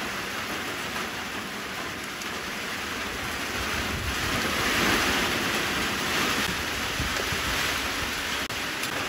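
Heavy rain pours down steadily outdoors in a village, a dense broadband roar that swells slightly midway, with no voices.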